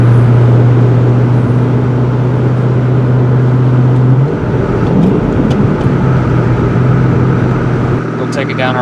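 Inside a 2001 Ford Mustang Saleen on a bumpy road, a loud, steady cabin drone of engine and tyres runs throughout, with the engine note shifting partway through and faint knocks from the rough surface.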